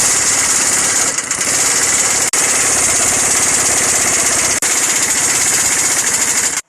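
An impact wrench fitted with a socket and universal joint drives a nut, hammering loudly and continuously up close, with two brief breaks in the rattle and no talking.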